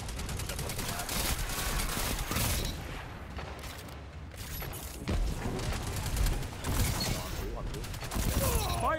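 Rapid bursts of gunfire from a Destiny 2 multiplayer match, with repeated shots and weapon mechanism clatter in dense, loud volleys, occasional pauses, and a voice speaking over the action.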